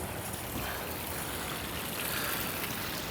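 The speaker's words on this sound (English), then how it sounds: "So we got two of the water features that are turned on now." Koi pond water features running outdoors in winter, a steady broadband rush and trickle of flowing water that stays even and fairly close throughout, with no voices.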